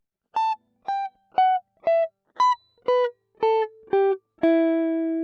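Nine clean, separate guitar notes of a solo plucked one after another without delay effect, each ending before the next, the last one held and ringing out.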